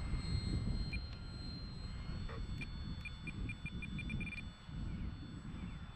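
A remote-controlled model airplane flies outdoors with its flaps fully down on a calm early spring morning in Central Florida. Its faint, steady motor drone sits under wind noise, and a series of short electronic beeps is heard partway through.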